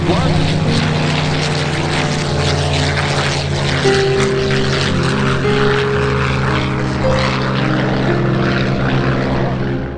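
The Texas Raider, a World War II B-17 bomber, passes with its piston propeller engines throbbing in a loud, steady, low drone that fills the whole stretch without letting up.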